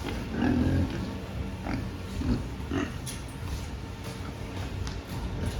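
Pigs grunt and oink at a farm feeding area, several short grunts near the start and scattered ones after, over a steady background hum.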